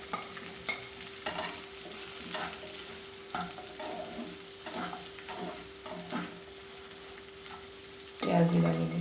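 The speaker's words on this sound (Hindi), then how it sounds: "इसमें हम डालेंगे शिमला मिर्च" Capsicum stir-frying with garlic in a pan, gentle sizzling broken by regular spatula scrapes and taps, then a louder burst of sizzle as fresh pieces hit the hot oil near the end.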